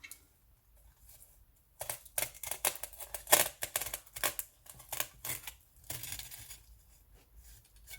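Scissors snipping pages out of a book: a run of crisp, close cutting snips and paper rustles in irregular bursts, with quiet pauses before and after.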